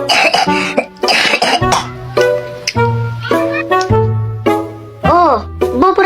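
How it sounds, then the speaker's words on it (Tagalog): A child coughs in several harsh bursts, alternating with an adult's voice talking nearby, close and fairly loud. "Inuubo ka na ha?"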